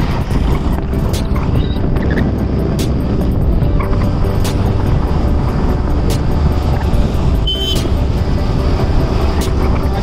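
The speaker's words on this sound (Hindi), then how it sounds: "आता मी गोराई जेटीवरून बाईकने जात आहोत आमच्या रिसॉर्टच्या इकडे।" Motorbike ride on a road from Gorai jetty toward a resort near Uttan, heard as a constant loud engine drone and rushing wind for the whole stretch, with no speech.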